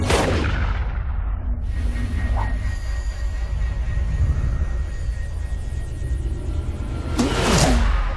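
Gunshots ring out in a film scene, with a sharp blast at the start and another near the end over a loud rumbling background. No clear speech is heard.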